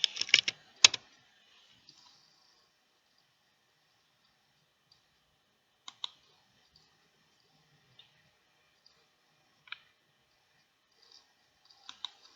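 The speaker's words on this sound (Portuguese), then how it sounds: "Eu vou ter que escrever Buda." Sparse clicks of someone typing on a computer keyboard, a quick burst of keystrokes at first, then isolated taps spaced seconds apart in a quiet room.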